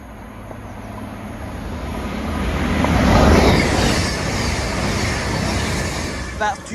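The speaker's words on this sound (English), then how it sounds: "There's 390050 Avanti West Coast service to Manchester Piccadilly from London Euston" An Avanti West Coast Class 390 Pendolino, 390050 on a London Euston to Manchester Piccadilly service, passes on the Trent Valley Line with a rising, broad rushing roar that peaks and then trails off, ending with brief wheel squeal.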